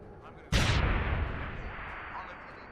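A grenade detonates in Deus Ex: Human Revolution, one sudden loud blast half a second in, followed by a long rumbling decay that fades gradually over the next two seconds.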